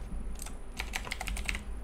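Rapid typing on a computer keyboard, a quick run of crisp key clicks at an uneven pace, close to the listener over a low background hum, with no talking.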